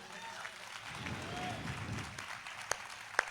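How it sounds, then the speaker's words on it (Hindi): A live audience at a Hindi poetry recital claps in a modest, uneven patter that rises and fades, with a couple of sharp louder claps near the end. "तालियों की ताल गई है"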